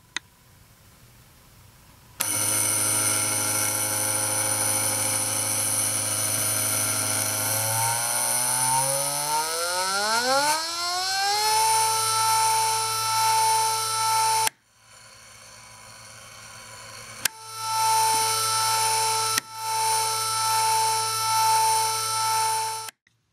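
Two-phase stepper motors run with a conventional driver and then a CVK smooth-drive driver: a steady whine with high tones, pitch sweeping upward as speed changes, stopping and restarting, fairly loud and alone.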